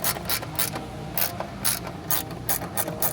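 Rapid ratchet clicks in repeated bursts as a loose nut on a 2019 Toyota Sienna minivan mount is tightened, close and fairly loud with no talking.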